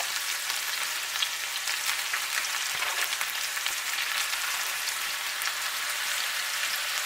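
Ground beef sizzles steadily in a cast iron pan for chili, a dense, even hiss of frying fat with faint occasional crackles and no voices.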